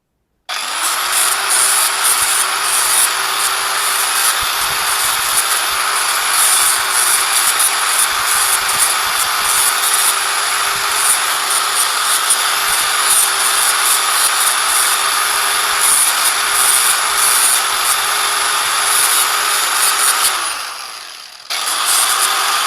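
Metal of a Fiat 124 Spider battery box being cut with a power tool, a loud continuous high whining grind held for about twenty seconds before it winds down.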